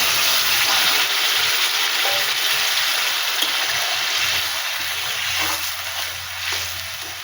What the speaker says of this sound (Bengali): মশলা কষা হয়ে গেছে মশলার থেকে তেল বেরিয়ে যাচ্ছে এবার আমি জল দিই